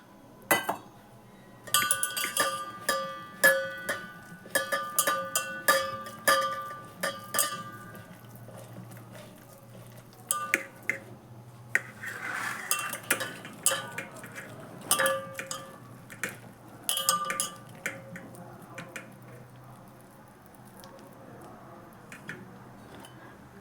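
Raw banana bajji batter being mixed in a metal bowl, with repeated clinking and scraping of a spoon against the vessel in uneven bursts, close and fairly quiet, with short pauses between strokes.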